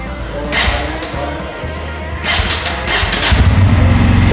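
A Bajaj Pulsar N160 motorcycle starts up close by; the engine catches and settles into a fairly loud, steady mid-pitched run with a couple of brief revs.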